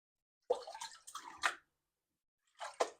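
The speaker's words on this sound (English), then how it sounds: "Panning in the jumbo pan inside of a safety tub, so I never really lose anything." Water sloshes and drips in a jumbo gold pan held inside a safety tub while panning by an Oregon river. There are two short bursts of splashing with a brief pause between them, close and fairly quiet.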